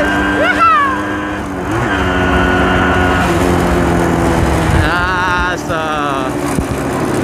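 A Suzuki TS 125 motorcycle engine runs steadily while riding, the pitch rising and falling with gear changes and throttle, with a voice talking over it at times.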